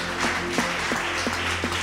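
A church congregation applauds in a dense, sustained patter of clapping with a few louder hand claps standing out, moderately close, with no clear cheering.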